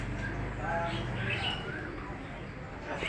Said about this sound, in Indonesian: Burung merpatinya juga ada ini Mas Roiman.